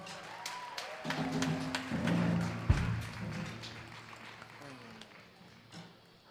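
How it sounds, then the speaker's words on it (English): An audience at a New Orleans jazz birthday celebration applauds the guitarist Frank Ball, a diffuse patter of clapping under someone talking over a microphone, moderate and fairly distant. "let's give our guitar player, Mr. Frank Ball, a nice round of applause"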